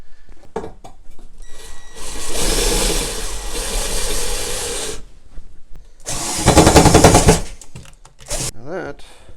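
A power drill whines and grinds through material in two long bursts, with short clicks and handling noises in the gaps between.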